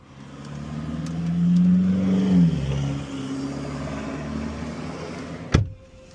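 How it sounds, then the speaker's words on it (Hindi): Another car passes in the next lane on a road, its engine hum and tire noise swelling and fading over a few seconds, then a sharp click from inside the cabin; no talk. "वो गाड़ी उस लेन पे चली गई है"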